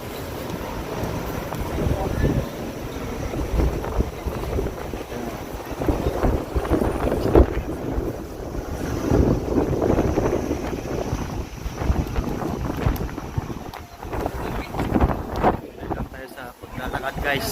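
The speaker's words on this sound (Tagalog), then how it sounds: "Lamig ang simoy ng hangin." Cold wind blows by the River Thames near Tower Bridge in London, a steady gusty roar buffeting the microphone, with voices faintly present beneath it.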